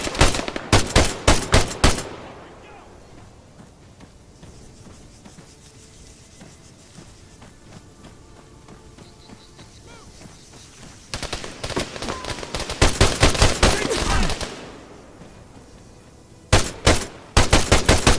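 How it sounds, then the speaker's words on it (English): Bursts of machine gun fire during a Brazilian army field exercise, rapid loud volleys at the start, again in the middle and at the end, with quieter outdoor ambience in the gaps. "Engage that machine gun!"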